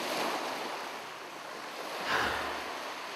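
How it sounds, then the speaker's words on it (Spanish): Ocean waves roll and wash in steadily under wind, with a broader surge swelling near the end; a soft, continuous surf wash with no voices. "Me metí en las olas."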